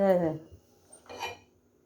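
A kadai set down on a kitchen stove gives a short metallic clunk and ringing clatter near the start, then a second softer knock of cookware about a second later, close by in a quiet room.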